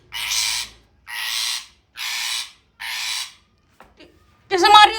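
Two pet parrots, Tara and Sara, fighting: four loud, harsh squawks in an even rhythm, close by, then a brief pause and a final shrill, raspy outburst.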